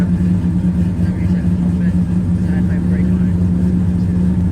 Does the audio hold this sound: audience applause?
no